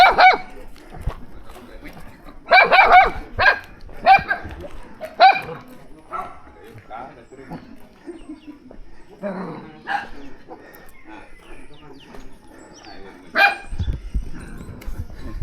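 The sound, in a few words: dog barking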